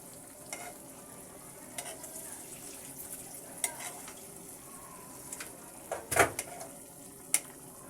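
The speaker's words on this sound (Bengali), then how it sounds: "মাছের মাথা এবং লেজটিকে আমি মশলা দিয়ে সুন্দর করে কষিয়ে নিচ্ছি" Rohu fish head, tail and a piece browning with spices in a pan give a low, steady sizzle, broken by occasional stirring clinks and a louder scrape of the pan near the end; no one speaks.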